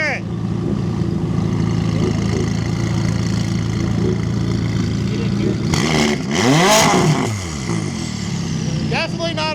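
A McLaren sports car engine idles with a deep rumble at a car meet, then revs sharply up and falls back once before settling, loud and close, with voices around it.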